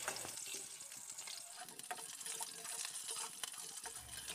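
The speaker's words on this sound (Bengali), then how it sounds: "সেই আলুটাকে দিয়ে তেলের উপর একটু ভাজা ভাজা করে নিচ্ছি" Large-cut potato pieces fry in oil in a pan, giving a soft, steady sizzle and crackle with a few stirring noises.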